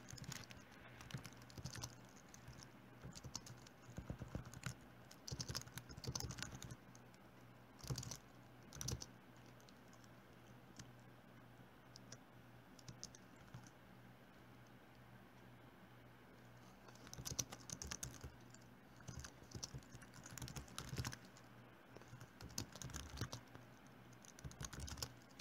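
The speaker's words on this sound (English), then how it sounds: "if I just type out the definition" Typing on a computer keyboard while entering a MATLAB linspace command, quick irregular clusters of soft key clicks in bursts separated by pauses, close and quiet.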